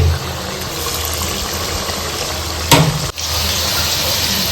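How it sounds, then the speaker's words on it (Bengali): Marinated chicken pieces for chilli chicken sizzle and crackle steadily in hot oil, a dense close frying hiss that holds through the clip with one brief sharp burst and a dip near the end, no one speaking. "এখন সেটা চলে যাচ্ছে গরম তেলে"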